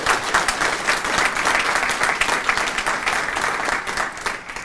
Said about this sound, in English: Let's give a round of applause to those supporters.